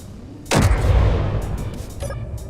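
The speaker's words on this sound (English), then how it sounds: "that's his assault cannon arm, or artillery arm." A heavy artillery-style cannon shot in Space Engineers, one loud booming blast with a long rumbling tail and scattered echoing crackles as it fades.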